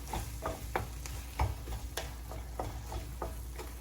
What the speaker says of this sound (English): You just mix your cilantro.